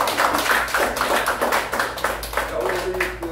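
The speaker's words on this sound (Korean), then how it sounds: "오늘 다시 한번 박수 드리죠." An audience claps after a lecture at a seniors' academy, a lively round of individual hand claps close by, with a faint voice and a low hum underneath.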